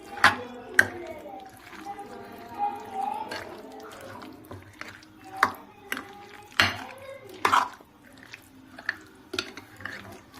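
Yogurt stirred into a homestyle chicken curry in a pot: a run of scattered clinks and scrapes from the spoon against the vessel, along with soft wet squelches, with a person talking in between.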